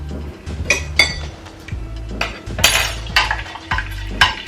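A spoon stirs a lemon and honey drink in a cup, giving repeated bright clinks against the sides in an uneven rhythm, close and clear with no voices.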